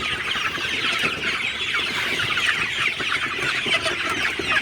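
Sonali super hybrid chickens in a poultry shed, a dense overlapping chorus of clucking and chattering from many birds, steady and close throughout.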